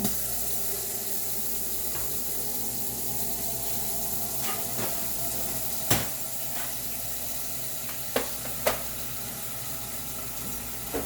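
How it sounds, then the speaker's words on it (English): Water runs steadily from a tap into a tub prepared with ice for cooling the face, a continuous gushing hiss with a few sharp knocks and clinks toward the end. "I'm going to fill it up with some water and ice."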